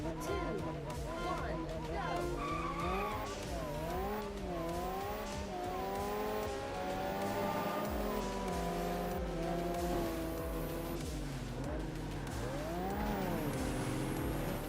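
Twin modular V8 race car engine rated at about 720 horsepower, driven in Ford Racing 3, revs loudly and continuously with rising and falling pitch sweeps as it shifts through gears, with talk running over it throughout.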